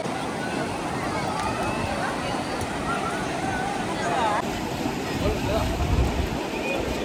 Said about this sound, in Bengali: অবশেষে চলে আসলাম দীঘার যে সবথেকে আকর্ষণীয় দীঘার সমুদ্র সৈকতে